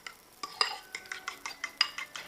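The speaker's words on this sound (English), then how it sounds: "going to whisk those right into my eggs" Salt and pepper being whisked into eggs in a bowl for a broccoli and bell pepper quiche: a quick rhythmic series of sharp clicking taps of the whisk against the bowl, close and clear.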